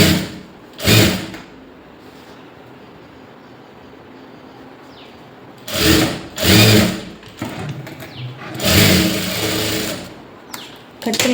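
A sewing machine runs a box-shaped line of stitching on a lined blouse in several short, close bursts of whirring, with quiet handling sounds between runs.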